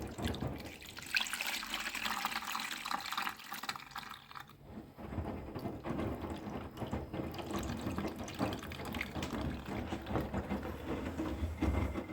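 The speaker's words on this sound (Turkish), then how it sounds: "Çok az su dökelim." A small amount of water is poured into a washing machine, giving a steady splashing, trickling wash that continues evenly throughout, fairly quiet and with no speech.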